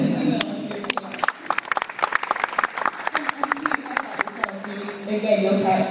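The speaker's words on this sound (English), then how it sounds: "I think that deserves a round of applause" An audience at a panel talk breaks into applause, a dense run of close claps that rises and then tapers, with voices talking over the clapping.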